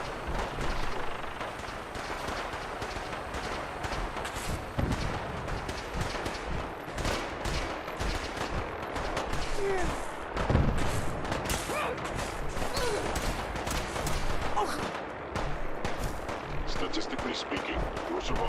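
Sustained gunfire and explosive blasts fill a battle at Bunker Hill in the video game Fallout 4, dense and loud throughout with a heavier boom near the middle, and voices can be heard beneath the shooting.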